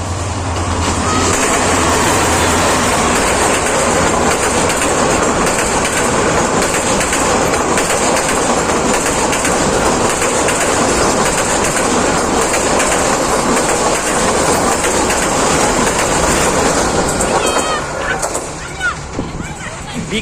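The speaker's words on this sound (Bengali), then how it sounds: "ট্রেনটা এত জোরে শব্দ করে, কাছাকাছি থাকলে বোঝা যায় কত শব্দ" A train passing very close by near Gazipur, a loud continuous rumble and rattling clickety-clack of wheels on rails filling the whole stretch, with a faint squeal as it fades toward the end.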